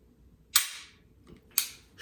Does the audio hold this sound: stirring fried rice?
no